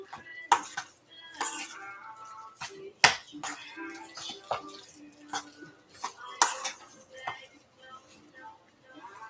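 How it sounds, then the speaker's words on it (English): Lasagna filling of meat and ricotta cheese is stirred in a bowl, giving irregular clinks and scrapes of a utensil against the dish, close and fairly quiet, with short pauses between strokes. "Just going to mix this all up."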